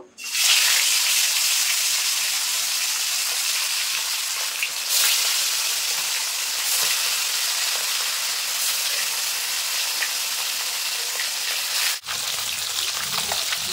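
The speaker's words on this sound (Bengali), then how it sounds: "তো দেখো কড়াইতে তেল গরম হয়ে গেছে, এবার মাছগুলো আমি ভেজে নেব।" Goldfish pieces frying in hot mustard oil in a wok, a loud, dense, continuous sizzle that starts abruptly and holds steady close to the pan, with a brief dip near the end and no voices.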